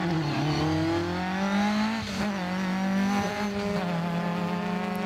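A rally car on Stage 5 of a 2024 rally sweeps past at speed, its engine loud and close with rising and falling revs and gear changes, filling the whole stretch without any talk.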